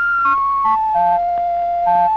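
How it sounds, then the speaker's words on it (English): A Mauch Stereotoner reading aid scans a small letter V, giving a short sequence of steady electronic beeps that step downward in pitch and then rise again near the end. "the magnification is adjusted so that a small letter V covers 5 cells and sounds like this."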